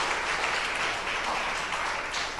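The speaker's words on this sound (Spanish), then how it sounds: "Denle un aplauso a Dios del cielo." A church congregation applauds together in sustained, dense clapping that stays steady and fairly loud for the whole stretch, with no talk over it.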